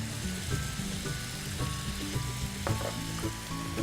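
Potatoes pan frying with spices, a constant close sizzle with crackling spits and occasional stirring scrapes, fairly loud and with no voices.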